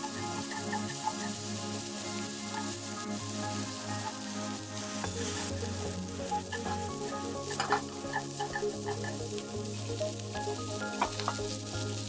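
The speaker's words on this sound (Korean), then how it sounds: "가장 단단한 당근과 양배추부터 넣어 볶아줄 거예요" Carrots and cabbage stir-frying in a pan with oil and garlic for samgyeopsal yaki udon, a steady close sizzle with scraping and clattering of stirring throughout, and no talk.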